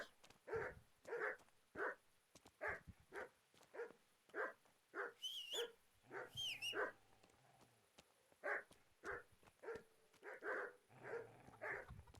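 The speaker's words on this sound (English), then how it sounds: "Wanna let me pet your dogs?" Several dogs barking repeatedly at a stranger outdoors near an outhouse, a run of sharp, regularly spaced barks with a couple of higher yips and whines mixed in, fairly loud and close.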